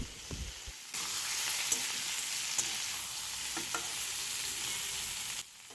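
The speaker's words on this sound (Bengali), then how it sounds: "আলুগুলোও হালকা ভাজা হয়ে গেছে এবার এর মধ্যে একটা ছোট টমেটো কেটে দিয়ে দেয়া হলো" Potatoes and tomato sizzling steadily in a pan for several seconds, with a few scrapes of stirring, starting and stopping abruptly against a quiet background.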